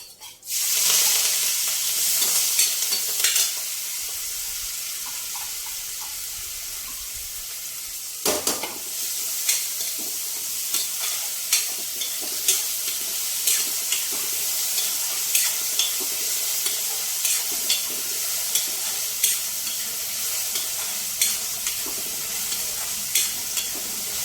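Onion, green chillies, dried red chillies and curry leaves fry in hot oil with a loud, close, continuous sizzle, broken by a pause and then regular stirring scrapes.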